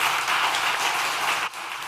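Loud, close audience applause at a startup summit stage session's end, dense clapping that dips briefly near the end before continuing.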